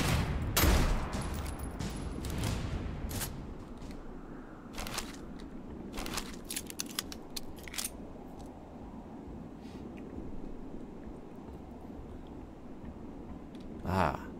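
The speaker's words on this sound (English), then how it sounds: "Okay, throwing grenades. Shotgun time." Grenade blasts and shotgun fire in the sci-fi shooter Moon Mystery demo, heard as a few sharp, separate bangs spread across a quieter stretch of low rumbling game ambience, with a loud crack near the start and another at the end.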